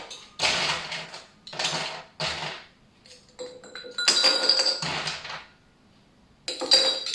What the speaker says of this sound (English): We'll take our glass of choice and we're gonna fill it with ice.